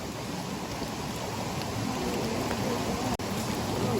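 Heavy rain pours in a remote mountain valley in Gangwon-do, a dense, even hiss that stays constant and close throughout.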